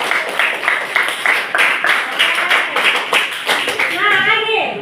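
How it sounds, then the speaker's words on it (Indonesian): A group, including children, claims rhythmic hand claps for Frans in a classroom, loud and steady throughout, with a voice speaking as the clapping fades at the end. "Kasih aplaus dulu untuk Frans"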